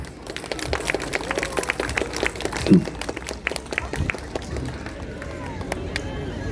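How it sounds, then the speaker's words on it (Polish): An audience claps for young Suzuki-method music students at a school performance in Zabrze, Poland: a steady patter of many hands, moderately loud and fairly close, with a brief louder burst partway through and murmured voices underneath. "Wielkie brawa dla nich"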